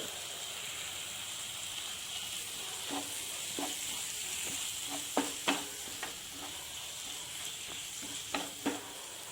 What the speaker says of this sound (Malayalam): തക്കാളിയും കൂടി ചേർത്ത് നമ്മുടെ മസാല നമുക്ക് നന്നായിട്ടൊന്ന് മിക്സ് ചെയ്തെടുക്കാം